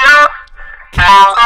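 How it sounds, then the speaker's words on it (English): A talk box effect shapes a sustained instrument tone into vowel-like, voice-shaped syllables, two bright buzzing bursts separated by a brief quieter gap, close and loud. "But you can get so many interesting sounds with the TalkBox."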